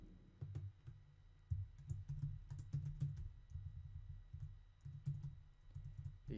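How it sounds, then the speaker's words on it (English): Rapid, irregular clicking of keys on a computer keyboard, with short bursts and brief pauses, close and fairly quiet, with no voices. "Oh my gosh, I'm terrible at typing."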